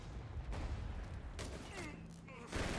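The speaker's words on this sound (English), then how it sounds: "a mortar pit was eventually starting to barrage that bunker" Mortar barrage pounding a bunker in the video game Company of Heroes 3, with repeated booming impacts and gunfire crackle in a dense battle soundscape, a voice talking over it.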